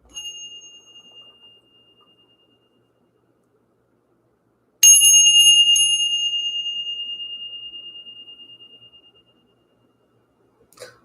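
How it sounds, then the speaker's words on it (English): A small bell is rung to clear energy. There is a faint ring at the start, then one bright, loud strike whose long metallic tone slowly fades over several seconds, and a soft tap near the end. "Let's go ahead and ring the bell."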